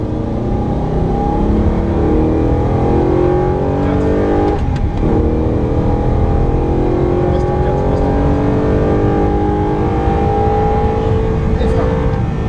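An Audi R8 engine held at full throttle in third gear, a loud continuous roar with rising and falling harmonics throughout, while a man gives driving instructions over it.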